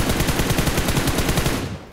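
Rapid P90 gunfire in a video game's Mecha Event: a loud, continuous burst of evenly spaced shots that stops abruptly near the end.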